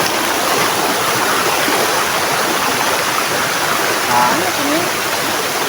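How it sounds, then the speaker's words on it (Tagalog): Anyap Falls in Tanay roars as a steady, loud rush of falling water that fills the whole scene, with a person briefly speaking over it. "Ito na Anyak Falls."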